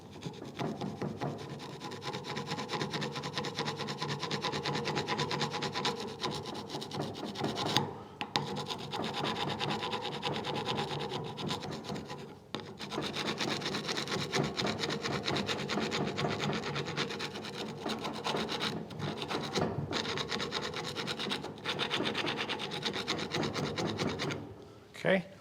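Rear brake caliper bracket of a 2016 Chevrolet Suburban filed by hand, with close, steady rhythmic rasping strokes that run continuously, broken only by two short pauses.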